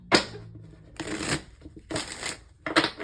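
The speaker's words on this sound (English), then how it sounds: "Let me get one more shuffle." Cards are shuffled in three or four short, bright riffles separated by brief pauses, close to the listener and fairly quiet.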